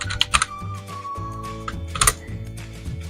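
Keys clack on a computer keyboard as an Excel formula is typed, a quick irregular run of close, crisp taps with short pauses between bursts.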